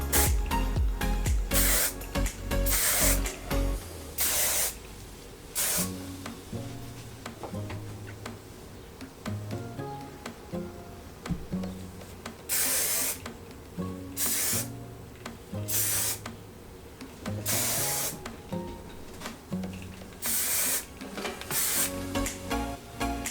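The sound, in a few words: hairspray being sprayed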